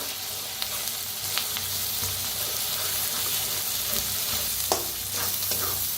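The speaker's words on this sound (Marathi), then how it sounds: "वाटण बी छान भाजून घेऊया" Ground masala paste sizzles in hot oil with browned onion for a Maharashtrian brinjal and potato curry, a dense steady frying hiss close by, broken by occasional spatula scrapes and taps.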